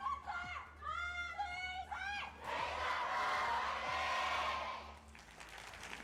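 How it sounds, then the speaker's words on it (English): Excited shouts and whoops from a few voices, then a large esports arena crowd at the OWCS Korea playoff finals erupts into a loud roar of cheering that fades after a few seconds. "The crowd is loud."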